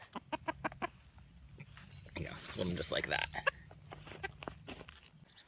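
A chicken, a male bird, clucks and squawks in short bursts while being scooped up and caught by hand, with a louder flurry of flapping and calls midway, heard close up under a person's speech.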